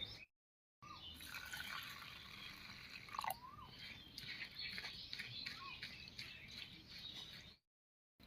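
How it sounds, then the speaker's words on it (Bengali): Red lentils (masoor dal) are rinsed in water by hand, with soft splashing and dripping close by and faint chirps in the background, bracketed by short silent gaps. "এবারে মুসুর ডালটা ধুয়ে নিচ্ছি"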